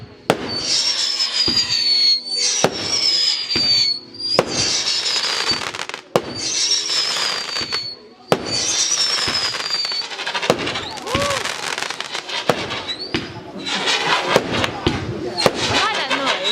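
Fireworks display at the 2013 Lanimers festival, with repeated sharp bangs, whistling rockets and crackling bursts following in quick succession at moderate distance, while onlookers talk nearby.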